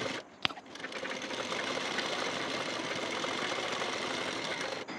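A sewing machine stitches a hook strip onto a blouse, starting after a sharp click and running steadily and evenly at close range for several seconds.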